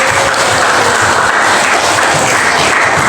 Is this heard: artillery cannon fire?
no